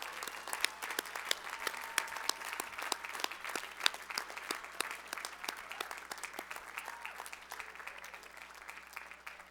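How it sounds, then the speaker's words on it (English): A large commencement audience at the Colorado School of Mines applauds its graduates in a sustained, dense round of clapping that stays steady and fairly even for the full stretch, with no speech over it. "Let's give our graduates one more round of applause"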